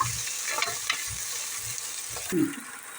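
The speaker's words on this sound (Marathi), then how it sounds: "आता लगेच आपण त्याच्यामध्ये क्रश केलेलं आलं टाकून देऊया आणि हे परतून घेऊया" Crushed ginger sautéing with goat trotters and spices in a pan gives a loud, close sizzle, with a spoon stirring and scraping throughout and a sharper burst of frying near the end, with no talking.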